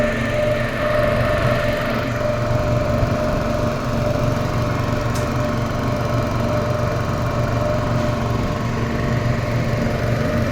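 A small motor boat's engine drones steadily while cruising on the Krishna river, a loud, close, unbroken buzzing hum that stays even throughout with no talk over it.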